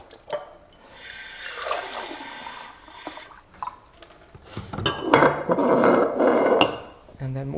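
Tap water runs and splashes into two laboratory beakers in separate pours, rising in pitch as they fill, with brief clinks and handling sounds between.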